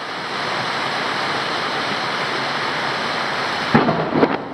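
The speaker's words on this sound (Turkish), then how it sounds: "Yakın bir yere yıldırım indi." Steady heavy rumbling roar of thunder from a nearby lightning strike, with a sharp crack near the end, loud and close, no voices.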